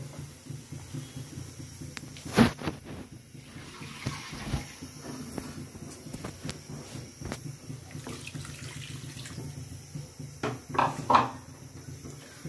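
Water is poured into a cooked, fried-down spice mixture for an egg curry in a pan, a faint trickle and splash with scattered clinks, quiet throughout.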